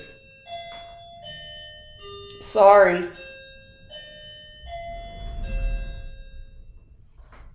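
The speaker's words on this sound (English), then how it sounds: "That's the doorbell." A tonal electronic doorbell rings in a home, with a few chiming tones spread across the moment, while someone talks nearby and other household noise rises afterward.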